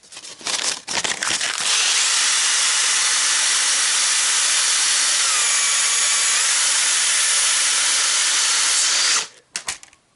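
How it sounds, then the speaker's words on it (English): A stainless steel rod chucked in a drill is spun against a piece of sandpaper, giving a loud, continuous high-pitched whirring hiss with faint tonal whine, starting after a few bumps and running steadily for about seven seconds before stopping. "So I chucked them up in this drill. Got a piece of sandpaper."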